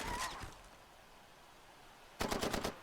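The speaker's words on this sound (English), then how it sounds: "I shoot the first vehicle" In Far Cry 2, gunfire rips out at a vehicle in two short automatic bursts, one at the start and one near the end, with a quiet gap between them. The shots are loud and close.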